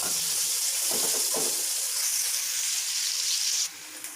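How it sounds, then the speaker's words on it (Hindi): Sliced onions fry in a pan while browning for a potato and pea curry, giving a steady, bright hiss of sizzling oil that continues evenly, with a few soft clinks early on, before dropping away near the end. "प्याज़ों के लाइट ब्राउन होने तक हम इनको पकाएंगे।"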